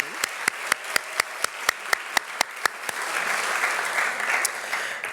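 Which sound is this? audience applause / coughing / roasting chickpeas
audience applause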